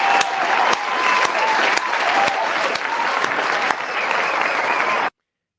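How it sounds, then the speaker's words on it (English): A dense round of crowd applause, loud and steady, with sharp periodic clap-like spikes through it, ending abruptly after about five seconds. "I'm actually going to do a round of applause."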